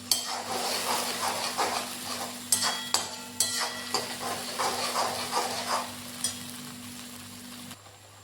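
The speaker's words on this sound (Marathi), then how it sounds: "तेलामध्ये छान ह्याला परतवून घ्यायचं आहे" Ground garlic and ginger paste sautés in oil in a pan, a soft sizzle and hiss under a run of regular spoon taps and scrapes that stop abruptly near the end.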